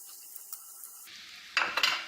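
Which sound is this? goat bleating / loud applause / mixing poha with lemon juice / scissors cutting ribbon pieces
mixing poha with lemon juice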